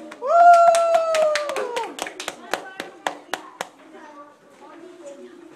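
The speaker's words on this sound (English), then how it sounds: "Please give a round of applause." Small hands at a preschool class presentation clap in a sparse, uneven round of about a dozen distinct claps, after a cheering "woo" voice at the start, trailing off into quiet talk.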